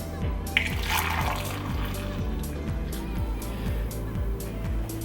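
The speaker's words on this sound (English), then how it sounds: "I'm just going to take the hot water and I'm just going to pour it into the mug here." Hot water pours into a mug, a soft steady liquid stream with a brief splash near the start, heard under a low repeating background drone and quiet room tone.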